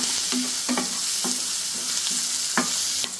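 Onions with salt sizzle steadily in a pan for a Karaikudi-style onion kosumalli, broken by several distinct scraping strokes of a spoon stirring at a loose, uneven rhythm, close and clear with no talking.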